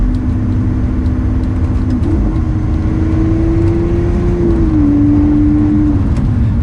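Lamborghini Aventador LP700-4 engine accelerating from second gear, a loud close rumbling drone that climbs in pitch, dips briefly, then climbs again, heard alone without talk.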